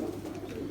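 A pigeon coos softly and continuously at close range in a fancier's rooftop loft in Rawalpindi, a low steady murmur with no talk over it.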